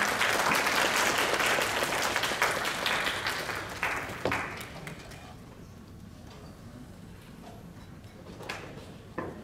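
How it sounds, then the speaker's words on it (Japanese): Audience applause welcomes three speakers onto the stage at a public dementia lecture event in Japan, loud sustained clapping for about four seconds that thins out and tapers into scattered claps and room noise. "皆さん拍手でお迎えください"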